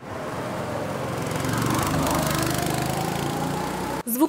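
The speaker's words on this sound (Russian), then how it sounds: "Звук мотора стал уже родным для Ильи Власова и Андрея Пуляева." A small go-kart engine runs at a karting competition, a buzzing, droning motor that holds steady and swells slightly before cutting off abruptly near the end.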